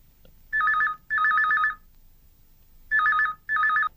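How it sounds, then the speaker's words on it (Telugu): An unanswered telephone rings in four bursts, each a loud, rapidly trilling electronic ring, paired with a short gap between bursts and a longer silence between the pairs, alone with no voices. "రింగ్ అవుతూనే ఉంది, ఎవరు ఎత్తడం లేదే"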